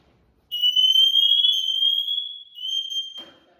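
A fire alarm device set to its fourth alarm mode lets out a loud, sustained high-pitched electronic tone that wavers slightly before cutting off. Brief faint noises follow near the end.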